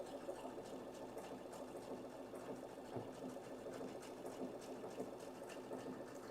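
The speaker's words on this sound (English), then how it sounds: "The ones I'm stitching out now should be denser than the ones we just stitched." Baby Lock Victory embroidery machine stitching out a dense design, a steady, fast, even mechanical whirr with rapid needle ticking that runs continuously at moderate level with no talk.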